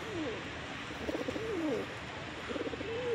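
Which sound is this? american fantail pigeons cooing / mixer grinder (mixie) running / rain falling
american fantail pigeons cooing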